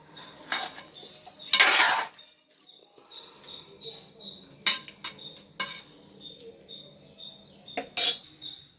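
A metal spoon stirs prawn biryani in a cooking pot, making a few short scraping clinks, and then a lid is set down on top with a brief sharp clatter, all close and fairly quiet with pauses in between.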